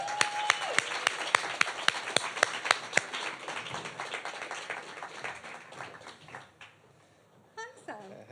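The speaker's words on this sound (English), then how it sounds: "So we can give her a quick round of applause, please." An audience claps for a guest at a live chat event, a burst of brisk, fairly close hand claps that thins out and fades over several seconds, with a voice speaking briefly near the end.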